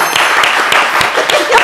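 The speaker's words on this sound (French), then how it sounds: "on peut vous applaudir" Brief burst of applause from a small TV game show audience, close and lively, with a voice faintly mixed in.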